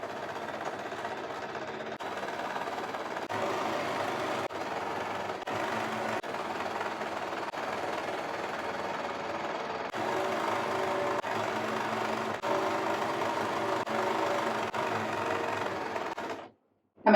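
A sewing machine runs steadily while stitching a churidar lining from the armhole down to the hem, a close, even mechanical whir with brief pauses, then stopping near the end.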